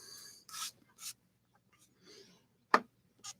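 A few short, sharp scraping cuts through a dried, glued paper picture, spaced irregularly with quiet gaps between, close and fairly soft.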